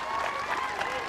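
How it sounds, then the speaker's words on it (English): A crowd at a village pump-pulling competition between parish teams applauds in a steady, dense wash, with speech mixed in under the clapping. "Well-deserved applause."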